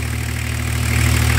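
A BMW M51 325 TDS diesel engine runs steadily with a low, continuous throb, close up and loud, rising slightly toward the end, with no voices over it.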